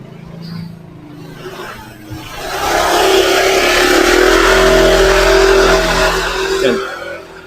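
A motorcycle passes along Mirasol Street, its engine swelling from faint to loud in the middle and then fading, with a voice talking at the start.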